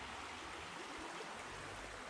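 Creek water flows through the woods, a faint, steady rushing and burbling that stays even and unbroken throughout.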